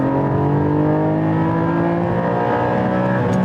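Porsche 718 GT4 engine holding a loud, steady high-rev drone with strong harmonic tones, sustained and close throughout with no talk.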